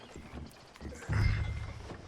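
Horse hooves clip-clop in Red Dead Redemption 2, a few soft footfalls followed by a louder snorting horse sound close by, with faint background ambience.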